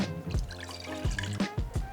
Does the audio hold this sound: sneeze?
no